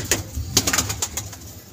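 Pigeons kept for sale coo close by in a series of short, throaty pulses that repeat irregularly, with no one talking.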